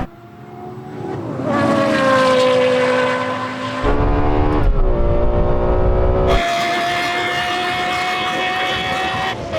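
A Porsche Carrera GT and a Lexus LFA V10 launching in a drag race, loud high-revving engines climbing in pitch through several gear shifts, close and sustained.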